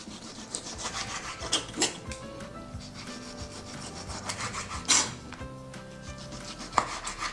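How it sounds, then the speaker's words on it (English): A knife cuts pork belly into finger-width pieces with rough scraping strokes and a few sharper knocks against the board. The sound is close, steady and unbroken, with no talking. "Cut the pork belly into 2 finger-width pieces."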